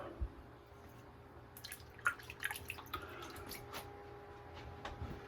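Water drips and trickles onto a shaving brush during a wet shave with lather, in a quiet room: a few scattered light taps and splashes, fairly close but faint, over a low steady hum.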